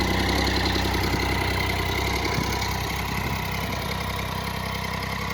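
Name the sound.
Triumph Street Triple 675 motorcycle engine idling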